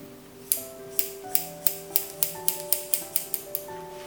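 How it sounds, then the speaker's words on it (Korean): Scissors snipping hair during a men's leaf-cut haircut, about a dozen crisp metallic snips in a steady, slightly quickening rhythm, close and clear in a quiet room. "그냥 이 상태에서 길이를 잘라주세요."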